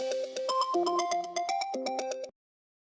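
A phone ringtone plays through a speakerphone in a Hindi sitcom household scene, a bright electronic melody of repeated tonal beeps running steadily for about two seconds before cutting off abruptly, with no talking over it.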